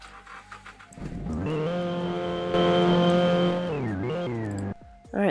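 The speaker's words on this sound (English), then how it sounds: "now we're just gonna have to test the car just to make sure it drives and everything" A car in the Roblox video game drives with a loud, steady synthetic engine drone that climbs in pitch, holds, then drops away and cuts off before a brief restart.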